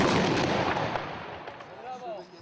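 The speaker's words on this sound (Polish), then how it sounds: "Zbiórkę na placu Jana Pawła II zakończono wystrzałem armatnim" Ceremonial cannon shot fired on a town square in Czarne during a marksmen's brotherhood event, a loud blast at the start followed by a long rumbling decay in open air.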